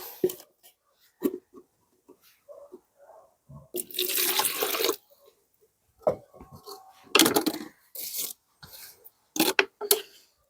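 Water poured from a container onto orchid roots in intermittent splashy bursts, close and fairly loud, with dripping and small handling noises between pours.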